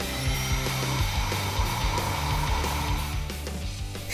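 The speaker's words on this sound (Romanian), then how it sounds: "Vai, am o suflantă!" A blower runs in a video game, giving a steady, loud mechanical whirring drone with a rhythmic low pulsing throughout, and no speech.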